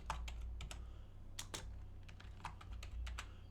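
Irregular bursts of clicky keystrokes on a computer keyboard while building a WordPress blog page, steady and close, with a low hum underneath and no talking.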